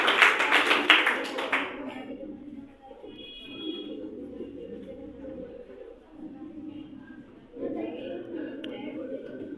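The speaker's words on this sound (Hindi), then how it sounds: "संजीव कुमार के लिए भी जोरदार तालियां" Applause breaks out for the third-place winner at a Children's Day school prize event, a burst of clapping for about two seconds that gives way to a quieter room with murmuring voices.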